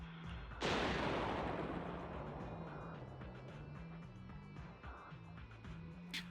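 An explosion in the video game Zenless Zone Zero bursts with a sharp, loud boom, then a long rumbling decay over several seconds beneath a steady game soundtrack.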